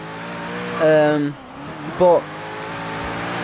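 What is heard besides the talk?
Hennessey Venom GT V8 engine in video game Forza Horizon 3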